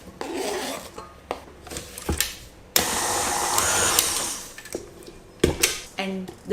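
Cake batter for a simple tea cake with fresh apples is whisked after a tablespoon of milk goes in, giving loud whirring bursts that start and stop, with one long stretch in the middle and brief knocks between.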